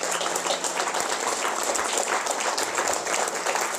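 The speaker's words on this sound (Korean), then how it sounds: "우리 뜨거운 박수로" Warm crowd applause welcoming honored chairmen at a commemorative ceremony for a memorial society, a steady continuous wash of clapping from a large audience.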